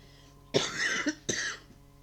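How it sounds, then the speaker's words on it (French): Two quick, close coughs from one person, a harsh burst followed by a second one a moment later, then quiet. "Désolée, je tousse"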